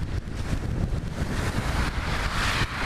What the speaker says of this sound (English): A bit of chill wind tonight.